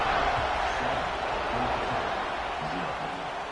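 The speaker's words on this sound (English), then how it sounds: "this crowd is buzzing after that last score" Stadium crowd buzzing at a college football game in a video game, a continuous dense roar of many voices with commentary talk layered over it.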